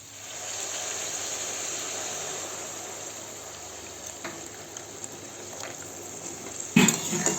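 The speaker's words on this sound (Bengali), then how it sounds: "এটা আমি এবারে জল ঢেলে দেবো" Hot water poured into a pan of fish fried with salt, turmeric and spices, a steady broadband rush and hiss running throughout, with a brief louder clatter near the end.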